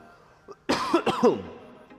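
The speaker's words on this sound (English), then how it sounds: "Ignore my cough." A single harsh cough bursts out close by, rough and throaty, followed by a short wheezy trailing breath.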